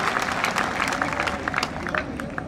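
A full hall applauds in honour of soldiers at a Dussehra poetry gathering, a dense wash of clapping with crowd murmur and voices under it.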